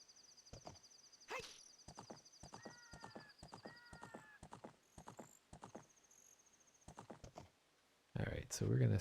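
Hooves clip-clop and a horse whinnies in a Zelda video game, the steady hoofbeats punctuated by short tonal calls and chimes, followed by a burst of louder noise at the end.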